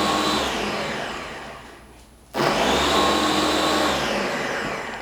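A blender whirs to mix separated watermelon liquid for popsicles, a loud steady motor drone that cuts off briefly, then starts again and runs on, close up with no speech.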